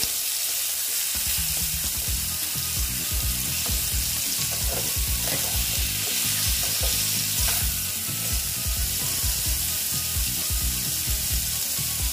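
Steady loud sizzling of bitter gourd (kakrol) frying in a pan, with occasional scrapes and stirring clatter and no talking.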